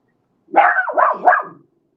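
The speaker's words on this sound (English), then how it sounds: "Yeah, that's always great online to hear my dog barking." A dog barks indoors, close and loud, in a short burst of two or three rough, overlapping barks lasting about a second against otherwise silent background.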